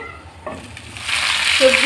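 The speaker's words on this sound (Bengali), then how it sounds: "পেঁয়াজটা ভাজা হয়ে গেছে। এখন এখানে দিয়ে দিচ্ছি সবজি" Pointed gourd and potato hit hot oil and the sizzle swells from quiet to a loud, close crackling hiss, with a brief clink of utensils.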